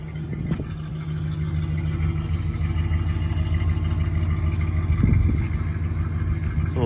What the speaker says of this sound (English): Go around to the back and show you how there's no smoke or crazy noises coming out of the muffler.